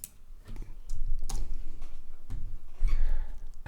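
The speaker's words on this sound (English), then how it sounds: "if I type ls, it should list the content" A few taps on a computer keyboard as a short command is typed, scattered keystrokes and clicks near the mic with soft thumps between them.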